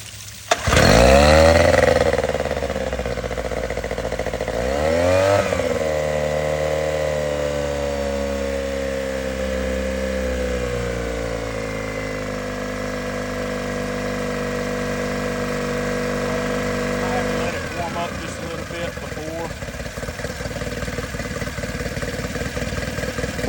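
A Yamaha 9.9 outboard motor starts with a roar and runs at warm-up speed after choking, revving briefly and then settling into a steady, fairly loud drone that shifts in pitch toward the end, with no voices.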